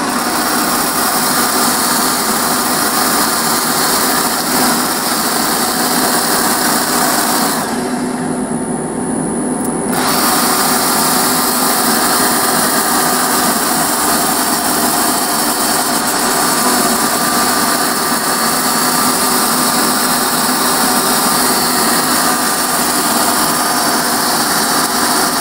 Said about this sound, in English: Much as possible when I'm sanding, I like to make sure that the sandpaper is moving at right angles to the bowl's direction.